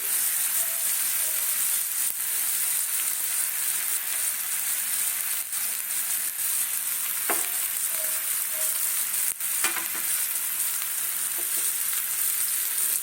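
Onions fry in a pan with a loud, continuous sizzle, broken by occasional scraping taps of a utensil stirring them, close up and with no voices.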